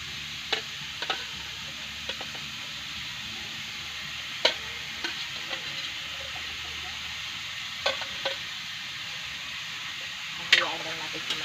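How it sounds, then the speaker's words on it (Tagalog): Adobo Chino frying in a pan, a Bicol dish, gives a steady sizzle and hiss, broken by scattered sharp clinks and scrapes as it is stirred. A voice talks over the cooking from time to time. "Haluin lang ng haluin hanggang sa maluto siya."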